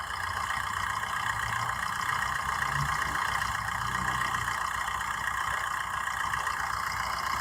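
A used car's engine idles steadily during a pre-purchase inspection, a continuous close, even hum with a faint low rumble and no talking.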